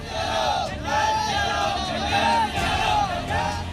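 An angry crowd of Karni Sena protesters blocking the Bhopal–Indore highway roars and shouts in loud, continuous waves of massed voices.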